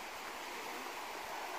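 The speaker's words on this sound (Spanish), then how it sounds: "en estos momentos estamos llegando al río del cual nos habló el papá de Angie." A river flows steadily near a pool, giving a continuous, fairly loud rushing wash of water with no breaks and no talking.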